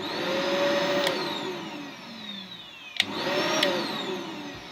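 Hoover Alyx vacuum cleaner running near the listener, its motor whine rising and falling in pitch across two cycles with a sharp click between them, steady and fairly loud with no talking.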